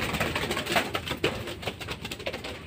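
Pigeons cooing close by in repeated soft throaty rolls, several birds overlapping in an uneven rhythm, with faint rustling underneath and no talk.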